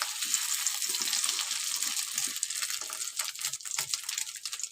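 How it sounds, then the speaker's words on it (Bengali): An egg and a flatbread fry in hot oil with a steady, close sizzle and crackle, and no talking. "ডিমটা দিয়ে দিয়েছি, এর মধ্যে রুটিটাও দিয়ে দেবো, দিয়ে একটু ঘুরিয়ে ঘুরিয়ে ভেজে নেব।"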